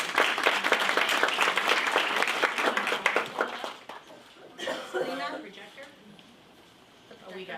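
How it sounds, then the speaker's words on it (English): An audience claps for a speaker introduced to talk about healthcare reform, a dense burst of applause that fades after a few seconds into scattered claps and a voice speaking. "So please join me in giving her a round of applause."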